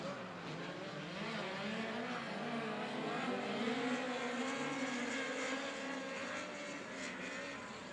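Midget race cars roar around the Humboldt Speedway dirt oval in a POWRi Midget League event, a steady, continuous engine drone with fluctuating pitch as the pack circles the track, loud and sustained throughout.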